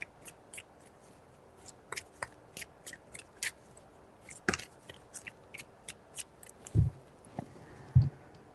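Soft, crisp riffling and tapping of tarot cards being shuffled, in short bursts with quiet gaps, close and gentle.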